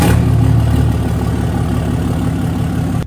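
A 6.7 Cummins diesel truck engine fitted with a new intake horn, a loud, close, steady deep rumble that eases slightly after the first second and then holds even.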